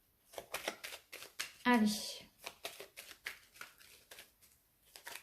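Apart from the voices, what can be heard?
shuffling tarot cards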